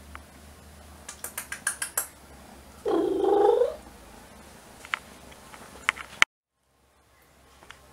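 Kittens purring in a home, a steady rumbling purr lasting about a second, close and fairly loud, preceded by a quick run of sharp clicks and followed by faint taps before the sound cuts to silence.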